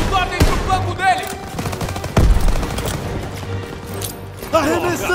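Machine guns rattle in Call of Duty WWII gameplay, with bursts and heavy impacts across a wartime firefight, while voices shout orders over the gunfire.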